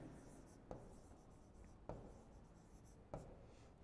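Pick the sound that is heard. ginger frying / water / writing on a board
writing on a board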